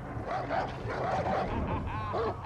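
Dogs barking and whimpering in Far Cry New Dawn, several yips and barks at moderate distance over a steady low game rumble.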